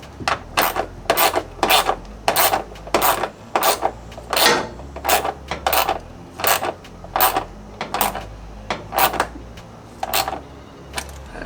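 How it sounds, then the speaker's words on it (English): A hand ratchet tightens the drain pump fastener on a Maytag Bravos XL washing machine, producing a close, even series of short clicking strokes at a quick rhythm with no talk. "Now I've got my ratchet and I'm going to tighten the rest of the way by hand here."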